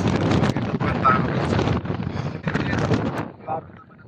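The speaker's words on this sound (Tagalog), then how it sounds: "Napakalakas ng hangin." Strong wind buffets the microphone on Mt. Alang Salacsac (Mt. Kayapa) in Nueva Vizcaya, roaring in loud, uneven gusts that go on throughout, while a person talks in the foreground.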